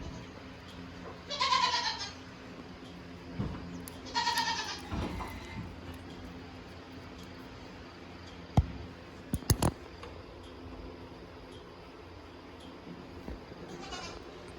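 Newly arrived goats bleat a few times in a quiet farmyard, two clear wavering calls early and a fainter one at the end, with scattered knocks and clicks in between.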